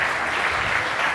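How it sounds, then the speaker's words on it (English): A conference audience applauds continuously, a dense, even wash of clapping from a large crowd filling the whole moment. "Another round of applause to Gael and the robot."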